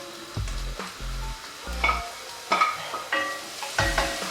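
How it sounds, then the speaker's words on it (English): Onions sizzle and crackle in a hot pan, with repeated stirring scrapes and clatters in an uneven rhythm, close up. "as our onions are frying away nicely"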